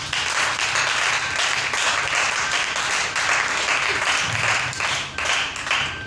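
Church congregation applauding and cheering in praise of the Lord, a dense sustained roar of clapping with scattered shouts filling the room.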